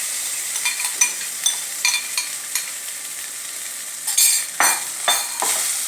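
A spoon stirring rice with curry leaves and salt in a sizzling pan, with repeated scraping strokes over a steady frying hiss, close and fairly loud.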